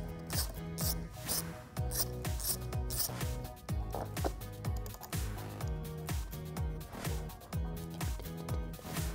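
A hand ratchet fitted with a 12mm socket clicks in quick, steady strokes while backing out an accessory bolt on a Jeep Wrangler battery terminal, close and distinct with no talking.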